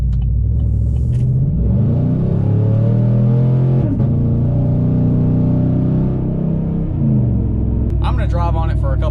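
A car fitted with an S&B cold air intake drives along with a loud, low engine rumble that swells as it accelerates, heard from inside the cabin. A voice talks over part of it.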